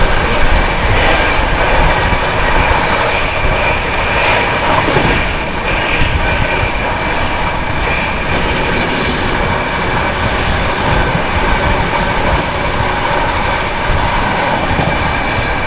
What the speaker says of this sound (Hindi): Shiv Ganga superfast express overtake करने जा रही है वाराणसी सिटी जोधपुर मरुधर एक्सप्रेस को